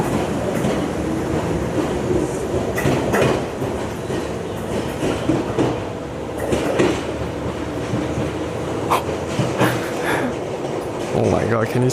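A retro electric train in Japan rumbles along the rails with rhythmic clattering and rattling, loud and close, shaking and tilting, with voices faintly underneath.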